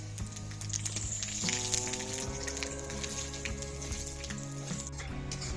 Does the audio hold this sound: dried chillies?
yes